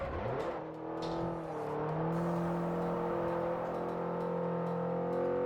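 Car accelerating hard during a timed lap on a test track, a steady rising engine drone with a gear change early on, heard from inside the cabin with no talk.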